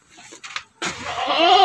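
A young goat, a kid of about three to four months, bleats loudly and close up in one long sustained call, preceded by a few faint shorter sounds.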